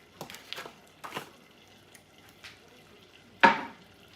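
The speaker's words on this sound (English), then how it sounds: "I'm ready to go ahead and whisk in that 3 tablespoons of milk" A whisk works milk into melted butter in a pot, making a few faint, brief scraping strokes followed by one sharper metallic clink near the end, with quiet gaps between.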